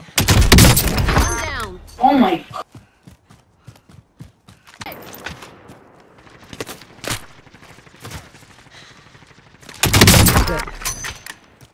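Sniper gunshots in the video game Call of Duty Warzone, a few loud sharp blasts with echoing tails separated by quieter game sounds, clicks and mechanical handling noises.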